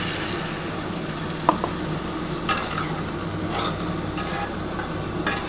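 Masala water being added to frying potatoes for a lentil-fritter curry, giving a loud, steady sizzle and bubbling with a couple of brief utensil clinks, close up.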